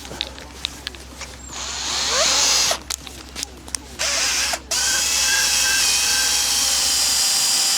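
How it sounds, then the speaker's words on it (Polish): A cordless drill-driver with a cleaning attachment scrubbing carbon off an engine cover from a Ford Mondeo Mk4 2.0 TDCi, whirring loudly in sustained runs broken by brief stops, with scraping and rattling between bursts. "To jest ta pokrywa, którą sobie muszę wyczyścić. Do tego użyję wkrętarki"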